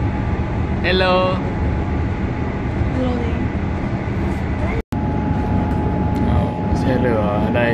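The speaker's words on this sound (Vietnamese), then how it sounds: "Đó là xe điện." A Melbourne tram rolls along with a continuous rumbling hum and rail noise, with a brief whistling squeal and a steady tone later on, while a person says a short greeting over it.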